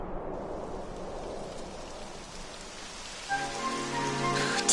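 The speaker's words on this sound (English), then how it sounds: "It would have to go and start raining, wouldn't it?" Rain falling in the video game Dragon Quest XI, a dense, steady patter on surfaces, joined near the end by rising game music.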